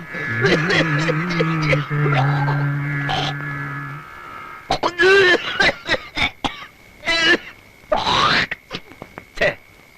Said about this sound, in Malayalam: ഉമ്മറത്ത് വന്നിരുന്ന് കാർക്കിച്ചു തുപ്പണേ